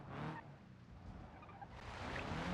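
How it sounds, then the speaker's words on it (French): A damaged car in the BeamNG driving game revs and skids, with faint engine drone and tire squeals mixed with rumbling, all fairly quiet and without talk. "Je viens d'accélérer, le moteur il est déjà scrap"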